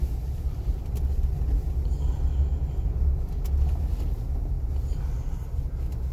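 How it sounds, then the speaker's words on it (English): A 2015 Jeep Wrangler Unlimited on mud terrain tires drives near San Luis Pass, heard from inside as a steady, loud low rumble of engine and road noise with no talking. "I'm driving a 2015 Jeep Wrangler Unlimited. It's got mud terrain tires, so it'll be alright."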